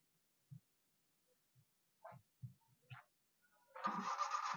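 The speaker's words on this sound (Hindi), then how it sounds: "गाड़ी स्टार्ट हो चुकी है, आप गाड़ी का साउंड भी सुन सकते हैं" A 2008 Toyota Corolla GLI at a Karachi Sunday car bazaar cranks and fires after a few soft, scattered thumps, its engine catching abruptly and running steadily and fairly close for the last second.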